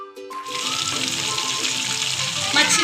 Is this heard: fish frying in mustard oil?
yes